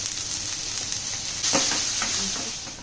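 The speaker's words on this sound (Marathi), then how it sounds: "कांदा भाजण्यासाठी आपण थोडं मीठ घालूया" Two large-cut onions frying in a pan with a little salt, a steady close sizzle that swells sharply partway through as stirring continues, with no talking.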